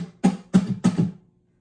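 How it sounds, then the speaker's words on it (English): Three short, dull percussive chops of muted guitar strings in quick succession, then silence; close and fairly loud. "he does do a little muted strum section"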